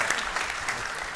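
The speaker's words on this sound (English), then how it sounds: "You can give him an applause." A lecture audience briefly applauds a Dutch Social Democrat member of the European Parliament, a short, fairly soft spatter of clapping with no talking.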